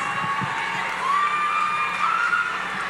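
A dense carnival crowd at a national carnival queen competition cheers and shouts continuously, loud and sustained with high whistles and whoops over the roar.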